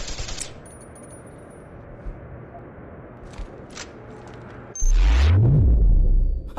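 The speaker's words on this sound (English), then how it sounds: "that turret hurts a lot" A turret fires in Deus Ex: Human Revolution, a loud, sustained rumbling burst late on after quieter ambience with a few faint clicks.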